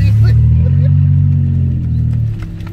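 A cheap van with straight-piped exhaust revs loudly and rumbles deeply as it drives off, the heavy engine note close and dominant before fading slightly, with voices talking over it.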